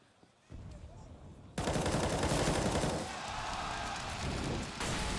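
Gunfire in the tactical shooter CS:GO erupts after a quiet start, swelling into loud sustained automatic bursts that continue to the end during a professional esports match on the Inferno map.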